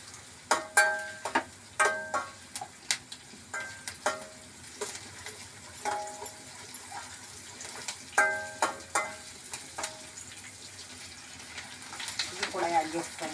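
Tomato pieces frying in a pan for a paneer and cashew curry gravy, with a steady sizzle broken by repeated sharp clanks and scrapes of a stirring spoon, and a voice talking at times.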